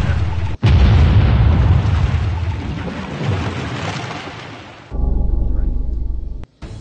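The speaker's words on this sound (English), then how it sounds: "It's gonna explode." Loud game explosion in Nuclear Submarine Inc, a dense booming rumble with a brief gap, then a second sustained low blast that cuts off abruptly near the end.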